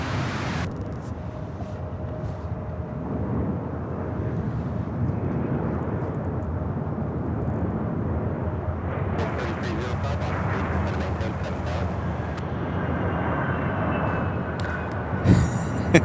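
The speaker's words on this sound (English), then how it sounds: "we have an ERJ 145 out of Montgomery" An ERJ 145 regional jet at Charlotte-Douglas International Airport produces a sustained, broad engine roar at a distance, steady throughout with a few sharper bursts and crackles toward the end.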